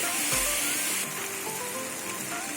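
Spices for ghugni sautéing in a pan with a splash of water, a steady sizzle and crackle like light rain, moderately loud and continuous with no talking.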